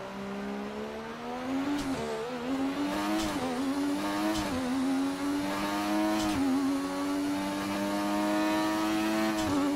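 Historic race car engines in the F1 2019 video game drone loudly and steadily, pitch climbing and dipping through gear changes, with brief shifts at intervals and no talk.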